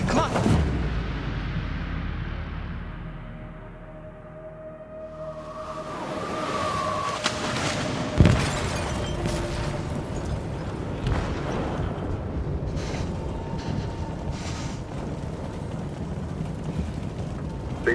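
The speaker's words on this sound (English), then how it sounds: "They detonated an explosive in the hold. The ship is sinking, sir." A heavy explosion in a ship's hold in the video game Detroit: Become Human opens with a loud boom, then a long rumbling, roaring rush with a second sharp bang midway, no voices over it.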